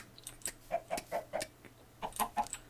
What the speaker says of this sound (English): Kind of sounds like what a chicken does when it walks on the ground.